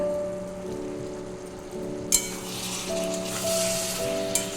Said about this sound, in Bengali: এবার আমি দিয়ে দেবো বরবটিটা